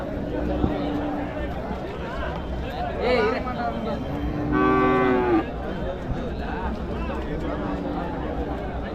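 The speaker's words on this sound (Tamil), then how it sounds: "நல்ல பெரிய மாடுங்க" Cattle moo loudly a couple of times amid a busy outdoor crowd at the Uthangarai cattle market in Tamil Nadu, with people talking and chattering throughout the background.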